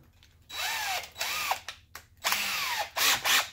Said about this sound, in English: the way that I like to clean that up is to use a step drill bit that goes up to 1 3/8